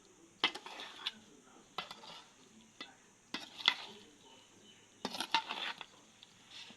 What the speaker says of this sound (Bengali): ভালো করে মিশিয়ে দিব এইভাবে।